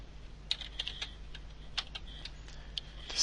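Keys tapped on a computer keyboard while a code is entered into telemetry configurator software for a remote A440, a sparse run of light clicks with short pauses over a faint steady hum.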